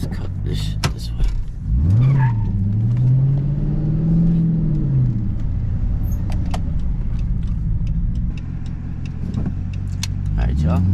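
A Dodge Charger Pursuit cruising through a city at night, its engine droning steadily and swelling as it accelerates and eases off, with road rumble, scattered clicks and rattles, and voices in the cabin.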